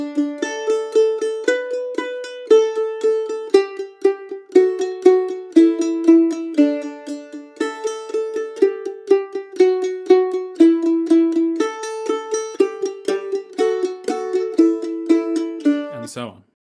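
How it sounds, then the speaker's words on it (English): Mandolin picks Twinkle Twinkle Little Star in even, constant eighth notes, each pitch repeated in a steady rhythm, bright and close, alone without talk until a short noise at the end. "So Twinkle Twinkle Star, with the same principle"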